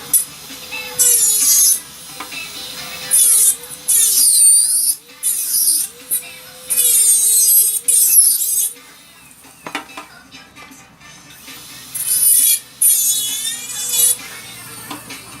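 A small rotary burr grinds a self-made acrylic denture base, giving bursts of high, whining scraping as the tool presses on and lifts off, loud and close, with brief quieter gaps between passes.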